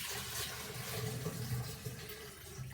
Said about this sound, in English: I take the strainer, I place it over the top of the jar, and I tip it